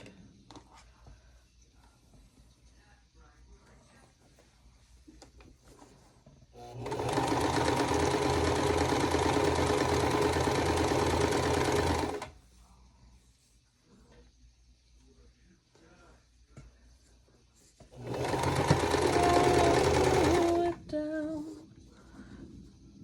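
A sewing machine stitches a 1.5 inch sash onto a quilt block in two runs, each a loud, even motor whir lasting several seconds, separated by quiet with faint handling noise.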